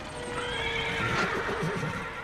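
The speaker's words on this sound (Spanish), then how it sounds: "El ruidoso Zust asusta a los caballos de un carro" Frightened cart horses neigh shrilly in a long, wavering whinny, startled by a noisy early Züst racing car, with a busy rumbling background underneath.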